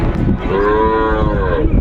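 A cow at a busy rural cattle market in Dinajpur gives one loud, close, drawn-out moo over a background of crowd chatter and market noise.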